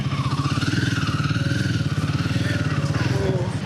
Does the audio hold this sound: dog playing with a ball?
no